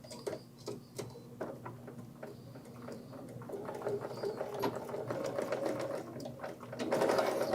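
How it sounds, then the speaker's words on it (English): A sewing machine stitches along the edge of a tote bag with a quarter-inch seam in rapid mechanical ticking bursts, starting and stopping, then running faster and louder toward the end, close by and with no speech. "He's going to sew just along the edge here with a 1/4 inch seam allowance"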